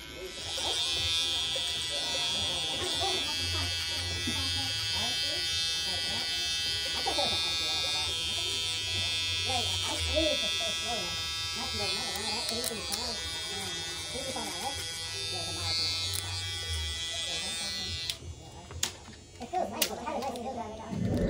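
A Gamma Rebel hair clipper with a number three guard buzzes steadily and close while cutting a fade, under someone talking, then cuts off near the end.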